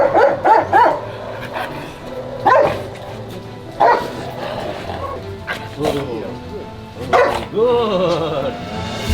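A police K9 search-and-rescue dog trained to find living people barks repeatedly in loud, close bursts outdoors during a training exercise, with a handler's voice speaking between and under the barks.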